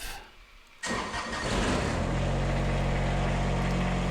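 A Kubota BX25 small diesel tractor cranks and fires up after a short quiet lead-in, then settles into a loud, steady, close diesel idle with a low, even rumble.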